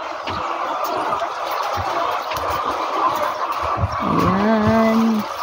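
Chickens on a family farm in the Philippines cluck in a scattered, nearby chorus, and a longer drawn-out call rises near the end over faint background noise.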